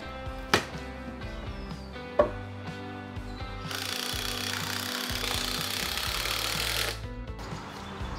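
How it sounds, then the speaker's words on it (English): A reciprocating saw cuts out a rotting window sill board, starting with a few knocks and short bursts, then a sustained loud buzzing rasp of the blade through wood for about three seconds. "I can use my reciprocating saw to cut out this rotting sill board so I can replace it"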